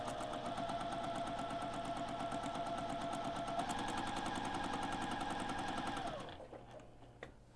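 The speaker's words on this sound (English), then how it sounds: "I'm going to sew these pieces on" Domestic sewing machine stitching pieces for a jumbo flying geese quilt, a steady rapid needle clatter running continuously at close range, then stopping abruptly near the end with quiet handling afterward.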